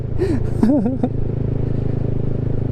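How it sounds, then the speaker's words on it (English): A Honda Grom motorcycle engine idles and rumbles steadily nearby, with a brief warbling whistle-like sound over it early on. "they can hear my motorcycle"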